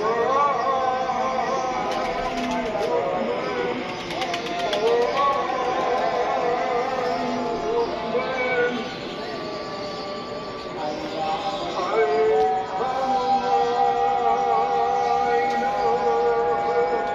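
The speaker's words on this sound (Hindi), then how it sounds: "ले जी दोस्तों अज़ानें हो रही हैं" A call to prayer drifts in from a distance, a long, wavering sung tone, with several such calls seeming to overlap across the whole stretch under steady outdoor background noise.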